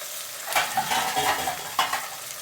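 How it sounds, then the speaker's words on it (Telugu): Turmeric and ginger are stirred through okra in hot oil, a close sizzle with a few distinct spoon scrapes against the pan and no voices. "పసుపు వేసి కలిపేద్దాం."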